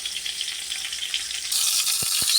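Sliced Spam sizzles steadily in a frying pan, a continuous hiss that grows brighter and louder partway through, with a couple of soft knocks near the end.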